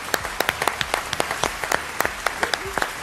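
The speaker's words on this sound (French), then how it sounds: "En l'applaudissant, voici Clément Brun" A studio audience on a French television show applauds a guest as he arrives, a lively run of sharp, overlapping claps with distinct individual hand slaps, steady and fairly close for about three seconds.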